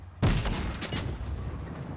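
In Fortnite, a tank fires with a sharp, loud burst that booms and then rolls off into a few quick rumbling echoes over the next second.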